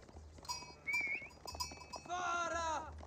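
Sheep in Age of Empires 4 bleat in short, wavering calls, a few distinct bleats over a quiet game background with faint clip-clop sounds.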